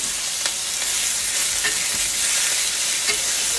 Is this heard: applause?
no